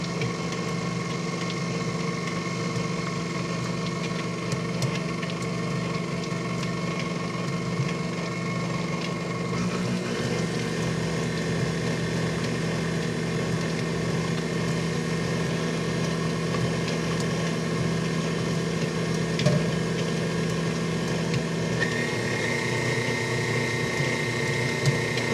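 An electric mixer runs steadily on low speed, churning cookie dough for holiday gummy bear cookies, a continuous mechanical whir and hum with no voices over it.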